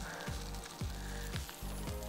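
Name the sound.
calf liver frying in hot fat in a pan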